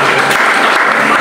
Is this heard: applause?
yes